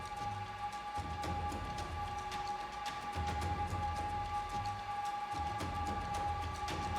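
Steady whirring of a noisy edge server's cooling fans, with a constant mid-pitched tone over a broad rushing hiss that pulses slightly in strength, close and continuous with no talking.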